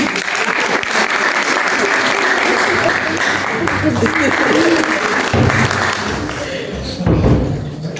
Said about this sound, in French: Bah, il mérite des applaudissements quand même.